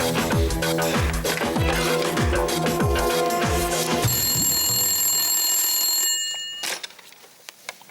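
A telephone rings with a repeating electronic trill as a call is placed to a police station; the tone is clear and steady for several seconds, then cuts off, with no talk over it.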